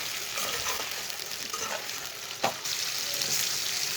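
Boiled meat sizzles and fries steadily in a hot pan for a noodle dish, a dense continuous crackle with a brief stir or clatter midway, no talking.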